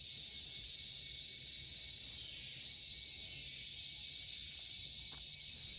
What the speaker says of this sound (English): The mid-afternoon air is heavy with humidity and the ceaseless trill of cicadas